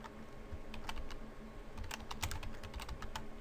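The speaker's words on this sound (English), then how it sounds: "I'm going to type in my name" Fingers tap out a name on a computer keyboard, a quiet, close run of uneven key clicks with short pauses and bursts.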